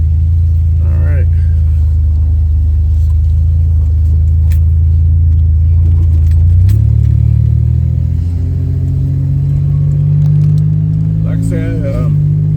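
A finished Buick Grand National's engine rumbles deep and steady from inside the car on a drive, rising in pitch as it accelerates around the middle, with someone speaking over it now and then.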